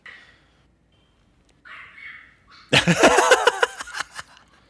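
A small Pomeranian dog barks inside an apartment building, a few faint yips at first, then a louder burst of rapid, close barks that tails off.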